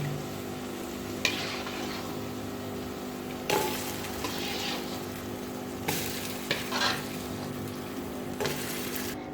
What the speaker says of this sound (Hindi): एक एक करके तमाम पकौड़े हमने कड़ी के अंदर डाल देने हैं